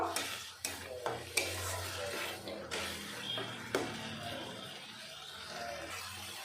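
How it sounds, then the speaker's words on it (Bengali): Spice paste sautéing in a pan for a katla fish curry with spring onions, with a soft steady sizzle broken by several sharp scrapes and clinks of a spoon stirring against the pan. "আমি ভালো করে মশলাটা কষিয়ে নেব"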